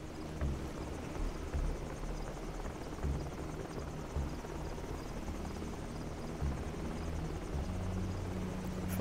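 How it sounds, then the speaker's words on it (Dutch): Steady rotor thrum of a helicopter circling overhead while searching for players in the video game Call of Duty 4, a constant low churning drone held for the whole stretch at moderate distance, with no talk. "Helikopter is naar ons aan het zoeken."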